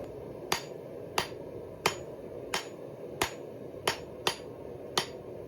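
Hammer blows on leaf spring steel being forged into a spear socket, eight sharp ringing strikes at an even rhythm, close and clear with no talk.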